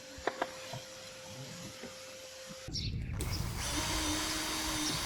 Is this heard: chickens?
no